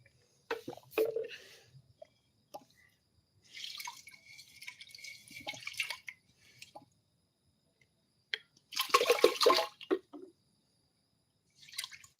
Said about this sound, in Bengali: চালটা ধুয়ে নিলাম